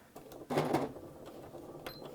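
A sewing machine runs a brief burst of stitches on a fabric placemat, a short close whirring rattle under half a second long, followed by faint clicks.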